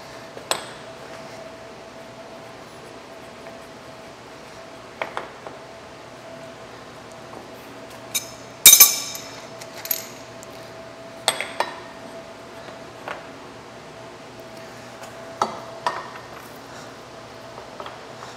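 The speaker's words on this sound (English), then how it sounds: "So I'm just going to go through and set all of my clamps." Metal clamps being set on the bar of a Bridgeport milling machine: scattered light metallic clinks and taps, one sharper knock midway, over a faint steady workshop hum.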